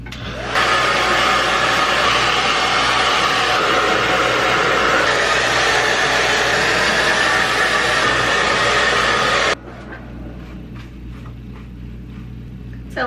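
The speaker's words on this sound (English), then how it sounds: "let's see how long it takes me to dry my hair. I like to do mine on high heat." A hair dryer on high heat drying hair, blowing loud and steady for about nine seconds before cutting to a quieter low hum.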